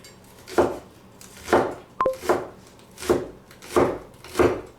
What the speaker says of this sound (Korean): 자, 이제 파 썰어보도록 하겠습니다.